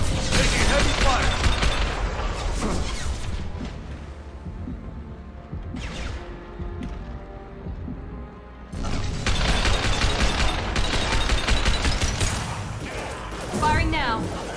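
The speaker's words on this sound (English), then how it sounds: "Taking heavy fire." Dense rapid gunfire rattles in a Mass Effect 2 combat sequence, bursts of shots and booms with a brief lull in the middle before the firing resumes loudly. Speech mixes in among the shots.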